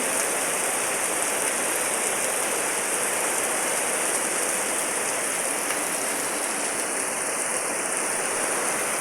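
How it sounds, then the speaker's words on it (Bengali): Heavy rain pours steadily in a dense, continuous hiss with no breaks, striking roofs and a covered veranda at a moderate level. "এখন তো আরও জোরে বৃষ্টি শুরু হয়ে গেছে"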